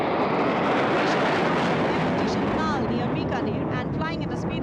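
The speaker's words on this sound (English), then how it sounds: "अमृत formation 5 Jaguar विमान, भारत की सुदृढ़ वायु शक्ति का प्रदर्शन" A formation of five Jaguar jet aircraft sweeps past during a Republic Day sky parade in India, a loud continuous roaring rush that dominates throughout, with a voice talking over it.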